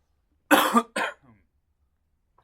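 Two sharp coughs in quick succession, close and fairly loud, followed by a faint trailing breath, with silence around them.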